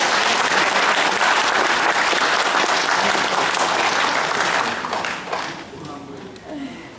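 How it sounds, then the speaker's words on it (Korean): Applause from an audience at a Korean national security event, a dense, loud wash of clapping that holds steady for several seconds, then thins and fades toward the end. "큰 박수 부탁드립니다"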